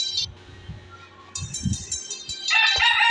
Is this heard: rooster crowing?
yes